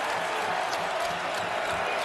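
Basketball arena crowd at a UConn college game roars as the coach fires them up, a dense continuous wall of cheering and noise at steady loudness for a couple of seconds.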